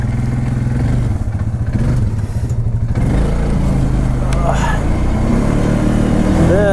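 Polaris Ace 570 ATV engine running on a test drive, a steady mid-pitched drone with clattering and rising revs as it moves off, loud and close throughout.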